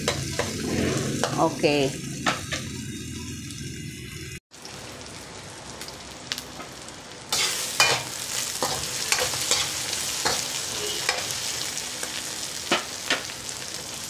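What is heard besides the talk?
pork sautéing in oil in a pan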